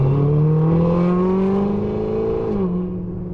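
Ferrari Roma with an upgraded exhaust and 3.9-liter twin-turbo engine, a loud sustained rev that climbs in pitch, holds, then drops back, heard up close without talk.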